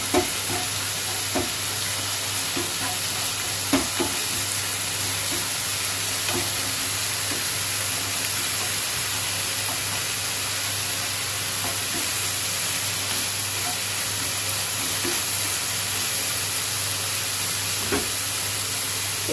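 Masala of onion, garlic, ginger and salt frying and being stirred in a pan for egg korma, a steady close sizzle with repeated scrapes and clinks of the spoon throughout, no talking.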